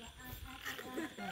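Frogs croak faintly and quickly during a nighttime frog hunt in the field, brief low calls set against a soft hiss of background noise.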